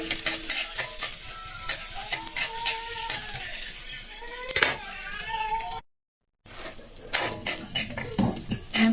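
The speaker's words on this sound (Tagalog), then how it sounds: "Sunod na natin yung ating bawang at saka sibuyas." Garlic and onion sauté in a hot pan for a home-style chicken tinola, a steady close sizzle with stirring scrapes and clinks, briefly cut out near the end before resuming.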